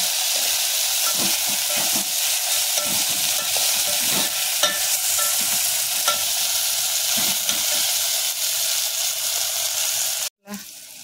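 Spring onions with green chillies stir-fry in a hot pan for egg rice, a loud continuous sizzle with frequent light spatula scrapes, cutting off abruptly near the end.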